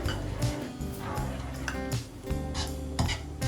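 Curry leaves stirred in a pan for a dry butter chicken with egg floss, heard as repeated clinks and scrapes of utensil against cookware alongside frying noise, fairly close and steady.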